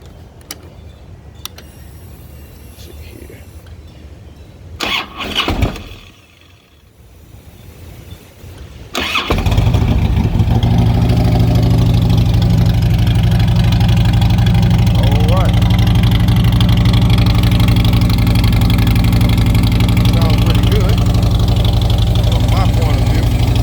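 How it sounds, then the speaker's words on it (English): Motorcycle fitted with Mutazu fishtail slip-on exhaust pipes with the baffles removed, cranked and started after a few seconds of quiet handling noise, then settling into a loud, steady, throbbing idle that runs for the rest of the clip. "here with Mutazu pipes without baffles, and so I decided to post a video of these pipes without baffles"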